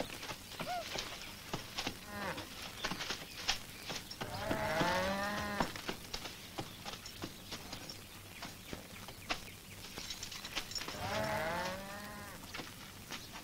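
A cow lets out two long, drawn-out moos several seconds apart, heard from a moderate distance over a quiet outdoor rural background with faint scattered knocks and rustles.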